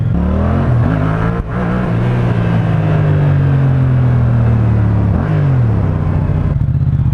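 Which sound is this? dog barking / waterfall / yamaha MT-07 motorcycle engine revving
yamaha MT-07 motorcycle engine revving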